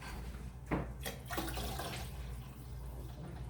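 Water from a 28-ounce can is poured into a pot of homemade chili, giving a close, quiet splashing and gurgling pour with a couple of sharper sloshes at the start, no talking.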